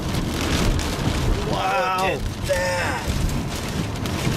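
Heavy rain drums down during a thunderstorm chase near Mankato, Minnesota, a dense, loud wash of noise throughout, with a person speaking briefly over it.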